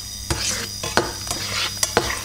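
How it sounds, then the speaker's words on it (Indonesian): Butter melts with a little oil in a pan, giving a constant bright sizzle with four sharp spatula taps and scrapes spaced through it. "Butter kita panaskan, butter dan minyak ya"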